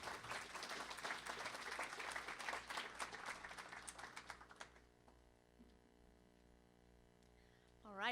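Dense crowd applause at a community college fall convocation, loud and sustained for several seconds before tapering into a few scattered claps, then a hushed room with a brief tone rising at the end.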